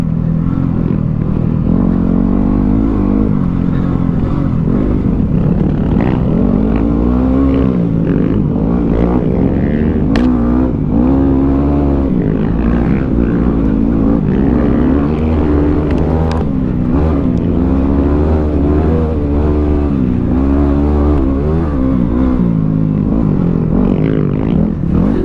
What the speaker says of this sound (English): Come on, Tim. Show me some wheel